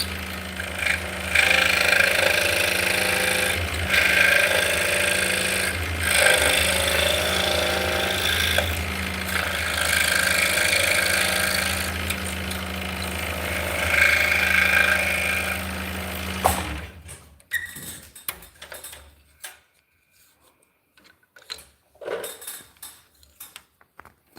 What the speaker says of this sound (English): So we're basically just cutting out a mortise.